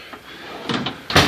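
A drawer on a 26-inch US General metal tool box slides open with a brief scraping rattle, then a sharper clack at the end of its travel, close and short.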